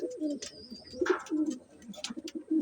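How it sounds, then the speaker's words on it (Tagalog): Soft, throaty pigeon coos repeat close by in a low, rolling rhythm, with a few faint chirps mixed in. "yung mga ibon natin"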